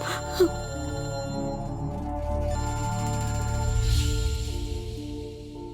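A telephone ringtone in a Kannada television comedy show plays as steady tonal ringing, mixed with background music and moderately quiet throughout.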